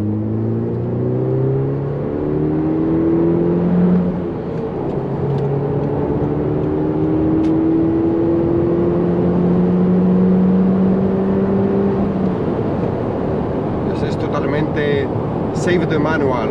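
Audi TT S (8J) accelerating hard from a launch on a German autobahn, engine tone climbing in rising sweeps, shifting and climbing again, loud and close throughout with steady road and wind noise; a voice speaks briefly over it.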